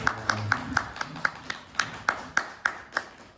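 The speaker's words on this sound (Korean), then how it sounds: "저 박수 한번 부탁드립니다" Scattered audience applause at a Korean film screening's guest discussion, a dozen or so sharp separate claps in an irregular rhythm, fairly faint and thinning out rather than building into a full ovation.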